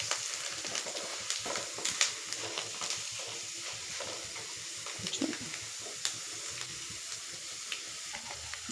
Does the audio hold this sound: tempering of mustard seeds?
yes